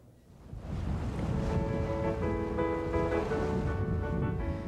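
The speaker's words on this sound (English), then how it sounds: "The only sounds are the waves, an occasional bird, and the wind." Ocean waves and wind at sea make a steady, full rushing wash, with faint tonal hums layered in and no pauses throughout.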